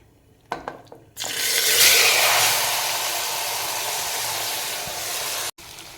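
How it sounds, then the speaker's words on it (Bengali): Marinated mutton hits a hot pan with a sudden loud sizzle that holds steady for several seconds and then cuts off, preceded by a couple of light clanks. "এইবার এতে ম্যারিনেট করা যে মাটনটা সেটা আমি এতে দিয়ে দেব।"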